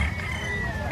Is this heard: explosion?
no